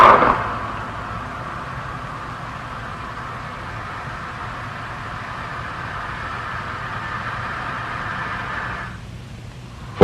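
Continuous rushing air-flow noise from the valve and piping of a compressible-flow channel, a steady broadband hiss with a faint mid-pitched whine, holding evenly for several seconds before dropping away near the end.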